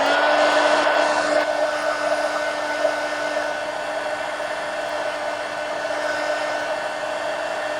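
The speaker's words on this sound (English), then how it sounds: "Heat gun." Heat gun drying sopping wet paint in a sketchbook, a steady blowing whir held close and loud for several seconds, alone without talk.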